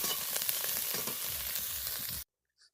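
Shrimp frying in oil in a pan, making a loud, dense, steady sizzle close up that cuts off abruptly near the end.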